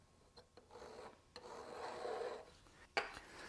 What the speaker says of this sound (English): Now I'm going to take my file and come down the edges of the frets here